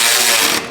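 A power screw gun whirs loudly and continuously as it drives screws into the bumper of an Audi B9 S4 during an RS4-style grille install, then quickly winds down.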